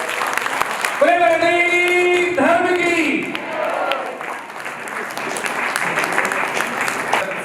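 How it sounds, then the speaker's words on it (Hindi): Audience clapping at an Arya Samaj anniversary ceremony in Nai Ki Mandi, Agra, a steady wash of applause that carries under a man's sung and spoken voice over a loudspeaker before continuing alone. "हाथ उठा के जोरदार ताली बजाओ"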